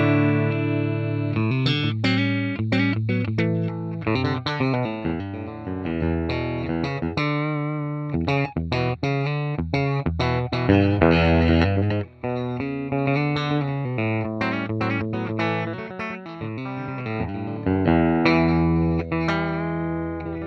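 Electric guitar runs through a Joyo Preamp House on its twin reverb setting with the gain turned up, playing a steady stream of bright, driven chords and single-note runs, loud and close with no talk over it.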